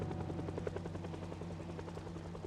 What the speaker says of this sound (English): Hello, Mr. Helicopter.